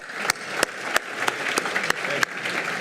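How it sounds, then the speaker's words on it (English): A small audience at a healthcare foundation annual meeting gives a brief round of applause, a soft wash of clapping punctuated by loud, evenly spaced claps from one person close by. "Let's give Jim a round of applause."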